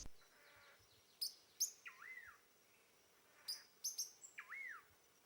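A yellow-lored tody-flycatcher calls in the Atlantic rainforest of São Paulo, giving sharp high chips and short rising-falling trills in two close bursts over a quiet background.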